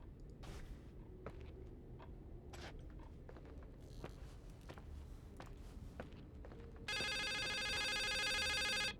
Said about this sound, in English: Is that our phone?